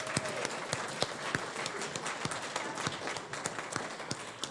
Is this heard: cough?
no